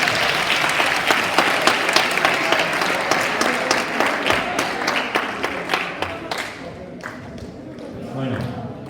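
An audience applauds David Parra at a school event, dense sustained clapping that fills the clip and gradually thins out near the end.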